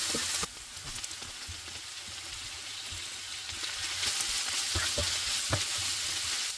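Two-day-old leftover rice is stirred and fried for fried rice with ham, a crackling sizzle broken by repeated scraping and clinking spatula strokes, moderately loud and close, with no talk.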